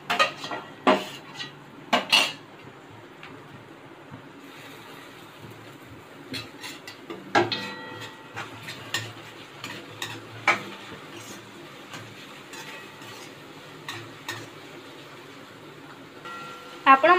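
Tomato and garlic-chili paste being stirred into fried onions for mixed dal, with scattered metal spoon scrapes and clinks against a pot over a soft sizzle, in irregular bursts.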